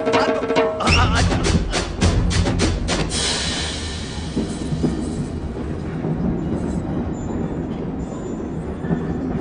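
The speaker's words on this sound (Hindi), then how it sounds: "मेरी ट्रेन छूटी जा रही है" A moving train in a Bollywood film scene rumbles loudly and steadily, with rapid clattering wheel beats at first that settle into a continuous heavy roar; a voice is briefly heard over it.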